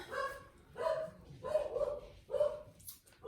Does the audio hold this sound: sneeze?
no